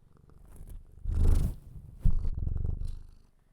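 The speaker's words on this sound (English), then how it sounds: "The purring of your cat is healing." A cat purrs steadily up close, a low rumbling hum that swells and fades with each breath.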